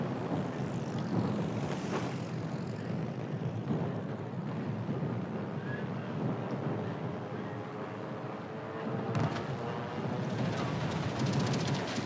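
Propeller aircraft engines drone continuously in the naval combat game World of Warships: Legends, a steady mid-level roar with slight swells and no talk.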